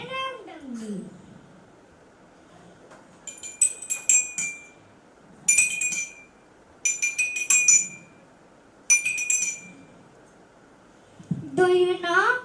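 Glasses holding different amounts of water are tapped in several short bursts, each a cluster of bright ringing clinks at distinct pitches, separated by pauses and set against a low background murmur.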